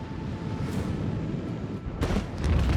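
An explosion in the video game Warhammer 40,000: Rogue Trader, heard as a rumbling blast and bursts of booming impacts over a low, continuous game soundscape.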